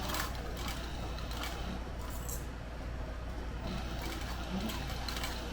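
A sewing machine stitches a leather sling bag along a skived edge, running in a steady, continuous drone at moderate level with no talk over it.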